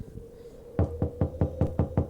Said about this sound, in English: it was a knock on the door